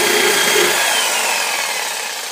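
A hand saw, a back-and-forth bucksaw, cuts through wood in steady loud rasping strokes, close up and continuous with no voices, the grinding tapering slightly toward the end.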